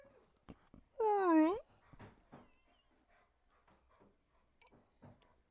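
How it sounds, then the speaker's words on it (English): A dog lets out a single high, sliding whimper, loud and brief, amid a quiet room with scattered small knocks and faint background voices. "The dog's attempting to help us."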